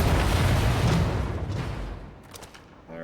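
An explosion in the shooter Wolfenstein The New Order: one loud, broad blast that rumbles and fades over about two seconds, heard alone without talk.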